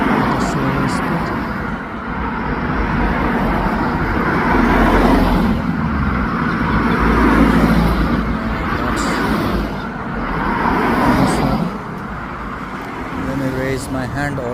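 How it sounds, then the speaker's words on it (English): Slow-moving road traffic rolls by in single file, a continuous rumble of car and bus engines that swells and eases, close by, with talking over it throughout. "Since there's a single file traffic, they're moving at a slower speed."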